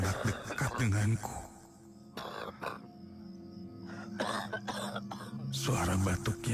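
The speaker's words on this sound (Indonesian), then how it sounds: "suara batuk seorang pria" A man coughing and clearing his throat close by, harsh rough coughs in several bursts, heard as a sound effect in a horror radio drama under a low background bed.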